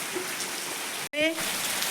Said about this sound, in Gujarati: વરસાદ તો વધારે ચાલુ થયો, હમણાં થોડો થોડો હતો પણ એકદમ વધારે ચાલુ થયો.